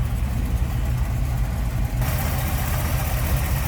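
A 1962 Chevrolet Impala SS tribute with a 327 V8 idles close by, giving a steady, loud, dense rumble that holds evenly throughout.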